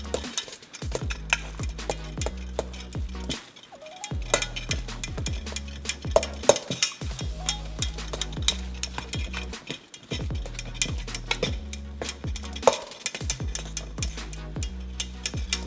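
Ground beef worked with a big mixing fork in a bowl makes repeated rhythmic scraping and soft clinking strokes up close, with brief pauses between bursts and no talking.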